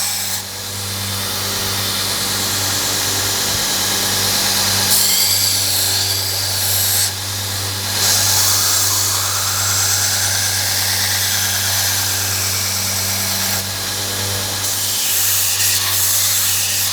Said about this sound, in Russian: Вот мы пока закончили черновую шлифовку